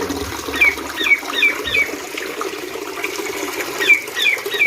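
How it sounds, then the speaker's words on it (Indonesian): Steady rush of a koi pond waterfall runs throughout, with scattered bird chirps and squawks over it. "Air terjun sudah kembali beroperasi."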